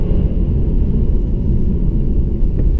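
Mercedes-Benz E 200 AMG Line 2016 engine heard from inside the cabin, a steady, loud rumbling drone as it pulls through the revs, with no talking.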